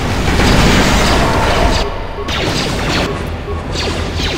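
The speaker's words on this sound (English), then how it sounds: "everybody's throwing an ion grenade" Ion grenades burst in KOTOR2 combat, several at once: loud crashing roars and whooshing blasts fill the first seconds, then the din eases into lighter clatter and hits, with no clear talking.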